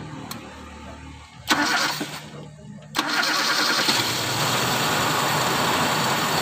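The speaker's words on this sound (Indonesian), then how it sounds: "oke teman-teman ini mobilnya sudah hidup ya" A Toyota Kijang 5K car engine, suffering from water mixed into its oil, cranks in two short bursts, then catches and settles into a loud, steady, slightly uneven running sound up close.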